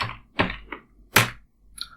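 Typing on a computer keyboard while entering a Git email setting, heard as a few separate close keystroke clusters with short gaps between them and no talking.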